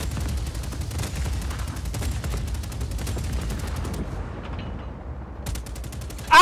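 Rapid automatic gunfire in Just Cause 4, sustained fast bursts of shots in a steady rattling rhythm over a rumbling battle background, loud and close, easing off briefly before a final burst.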